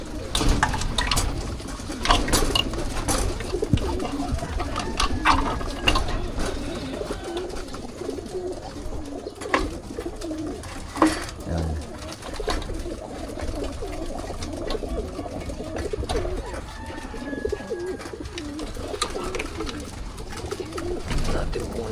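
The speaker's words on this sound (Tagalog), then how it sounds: "So yan, yan yung mga ibon natin." Racing pigeons coo softly and repeatedly inside a loft, with rustling, shuffling and faint scratching noises throughout.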